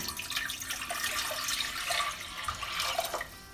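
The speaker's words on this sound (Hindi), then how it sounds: "इसमें डालेंगे पानी" Water from a tap pours into a cooking pot on a gas stove, a continuous close splashing rush with no talk.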